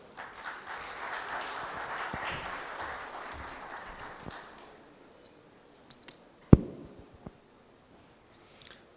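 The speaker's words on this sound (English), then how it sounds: "Can we have a round of applause from the audience?" A conference audience applauds for about four seconds, a moderate wash of clapping that fades out, followed by quieter hall sounds with a few scattered clicks and one sharp knock.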